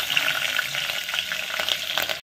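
Four green chillies sizzling in hot oil in a pot, a bright crackling fry with spattering pops, close and steady before it cuts off abruptly.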